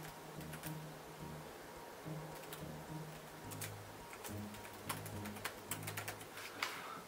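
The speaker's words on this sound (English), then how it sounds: "let me type in my not Gmail account" An email address is typed on a computer keyboard, soft scattered key clicks in quick bursts against a faint low background hum and a few cooing tones, no voices.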